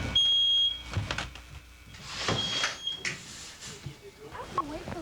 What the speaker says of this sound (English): He awakens as soon as a new smoke detector in his room goes off